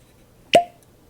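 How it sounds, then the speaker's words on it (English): A cork pops out of an Eagle Rare 10 Year whiskey bottle in one crisp, hollow plop, close and sudden against a quiet room, then a quick fade. "I'm ready for cork pop."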